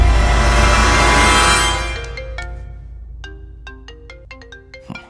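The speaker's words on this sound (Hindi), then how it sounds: "केपी का फोन है, उठाओ ना।" A mobile phone ringtone sounds for an incoming call, first as a loud dense burst of tone and then as a clear repeating melodic pattern of short notes, heard alone with no talk.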